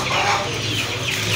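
Goliath chickens cluck at a poultry farm, several soft overlapping clucks and calls over a continuous, fairly loud background of farmyard noise.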